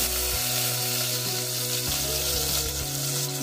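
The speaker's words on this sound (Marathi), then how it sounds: "तेल चांगलं तापलंय. आता याच्यामध्ये मी लसूण घालते पहिल्यांदा," Garlic crackles and sizzles loudly in hot oil for a tempering, a dense, continuous frying hiss that holds steady throughout.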